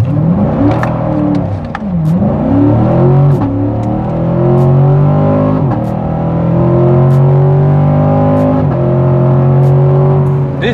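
A C7 Corvette engine revs hard and accelerates, loud and close, its pitch repeatedly climbing and dropping sharply between gear changes over about ten seconds.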